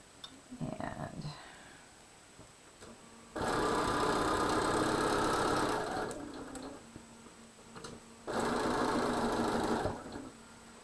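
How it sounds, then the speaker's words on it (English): Sewing machine stitching fabric for quilt blocks in two loud, steady bursts of fast mechanical whirring, with quieter gaps and brief talk between runs. "I am sewing through this"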